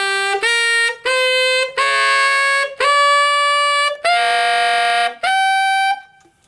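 A tenor saxophone plays an altissimo A blues scale, a series of about seven bright, piercing sustained notes separated by short breaths, loud and close with no talking.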